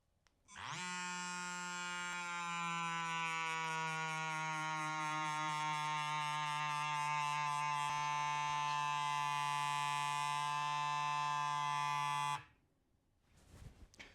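A small air compressor pumps air through a Presta bike valve, a loud steady mechanical buzz with a harmonic drone that starts abruptly, holds for about twelve seconds and cuts off sharply.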